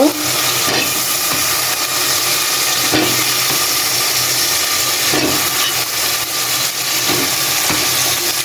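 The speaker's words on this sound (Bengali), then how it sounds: "তো এখন আমি এই যে আলু বেগুন দিয়ে দিব" Potatoes and eggplant fry in a pan of cooked-down spiced oil meant for a tilapia curry: a loud, steady, close sizzle with occasional stirring scrapes and no voices.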